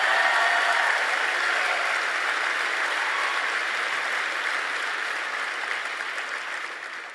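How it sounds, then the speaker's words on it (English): Sustained applause from a live audience at a Turning Point campus tour speech by Tucker Carlson at Indiana University, dense steady clapping that fills the whole stretch and slowly fades toward the end. "Why don't you guys go ahead and round of applause for yourself?"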